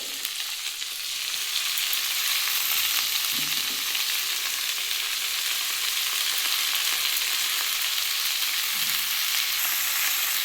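Radish greens frying in a pan with tomato, green chillies and potatoes, a steady loud hiss of sizzling oil throughout with faint occasional stirring knocks.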